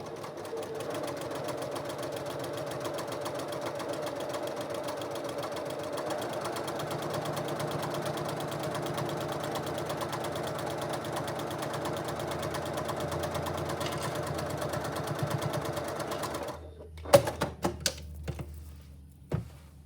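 A sewing machine stitches zipper tabs for a zipper pouch with a continuous, fast, close mechanical whir for about sixteen seconds, then stops, followed by a few sharp clicks and handling knocks.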